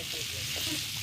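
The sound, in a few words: frying eggplant and potato together in a pan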